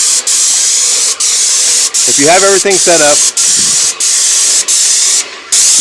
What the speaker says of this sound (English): your spray is going to go straight from the spray gun to the wall